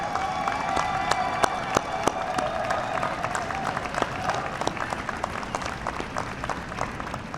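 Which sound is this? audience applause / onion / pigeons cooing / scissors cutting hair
audience applause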